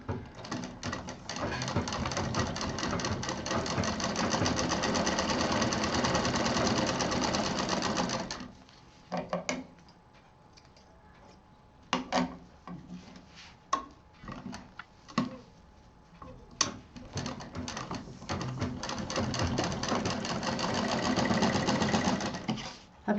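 Sewing machine stitching fabric for a homemade baby backpack: a fast, steady mechanical whir in long runs, pausing in the middle for short stop-start bursts and clicks, then running steadily again, loud and close.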